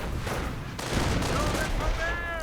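Rifle gunfire crackles in a video game infantry engagement as dense, overlapping bursts of shots, with a few thin whistling tones rising near the end.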